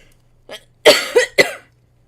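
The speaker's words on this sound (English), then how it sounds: "every time I cough" Three sharp coughs close to the microphone, a faint one first and then two loud ones in quick succession, over quiet background hum.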